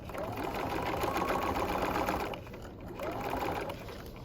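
A sewing machine stitches the top of a bucket hat to its crown, running in a close, steady mechanical whir with a short pause before starting again, as if backstitching.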